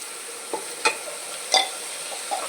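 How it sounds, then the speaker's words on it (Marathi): Turmeric and ground masala paste are added to tomato and ginger-garlic paste frying in a pan, with a soft steady sizzle and a few spoon scrapes and clinks while stirring. "आता त्यात हळद टाकूयात आणि वाटण करून घेतलेलं ते टाकूयात"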